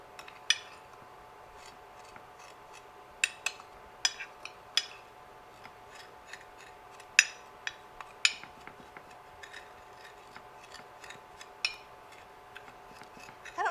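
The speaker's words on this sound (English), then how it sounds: "I have some big flake nutritional yeast, so I'm just kind of grinding that in a little bit with the back of my spoon" Back of a spoon grinding big flake nutritional yeast in a bowl, sparse close scrapes and sharp clicks at irregular intervals, fairly faint and with no talk.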